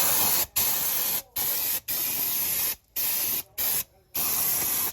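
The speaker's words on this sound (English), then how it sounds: "So yeah, let's just spray this out." Non-chlorinated brake cleaner sprays onto car brakes in a series of loud, close bursts of hissing aerosol, each lasting about a second with brief pauses between.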